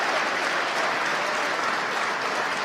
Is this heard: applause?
yes